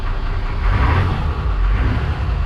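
Port engine of a Princess 33 motor boat given a brief rev, a loud low engine roar that swells slightly and then settles back, steady and close with no speech over it.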